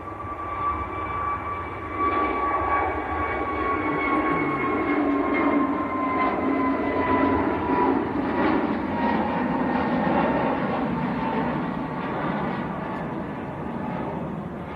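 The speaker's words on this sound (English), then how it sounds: "Here comes KLM, a chance to turn that chat blue. A321 Neo to Amsterdam." A KLM Airbus A321neo jet airliner at Manchester Airport, its engines producing a steady, fairly loud roar with faint whining tones throughout, holding constant without talk.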